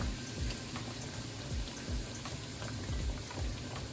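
Pork belly frying in oil with fish sauce crackles and sizzles steadily, a dense bed of small pops with occasional louder spits, close and continuous with no talking.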